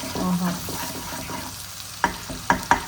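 Fish pan-fries in ghee with lemon and garlic. A soft sizzle runs under a brief voice at first, then sharp utensil clinks and scrapes ring out against the pan.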